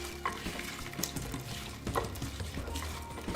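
Vegetables tossed by hand with olive oil, ground black pepper and seasoning make close, wet squelching and rustling, with a few soft knocks against the dish and no talk.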